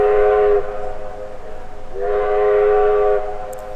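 A train pulling into platform 2 on a Melbourne line sounds two sustained horn blasts, the second coming after a short gap, loud and fairly close over a low rumble.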